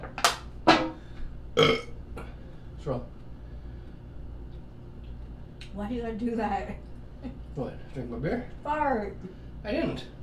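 Comedic bodily noises: a couple of short, loud burp-like bursts early on, then people talking over an ongoing low background hum.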